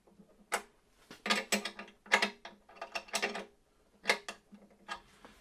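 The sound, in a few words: tightening nuts on Taylor guitar tuners with a wrench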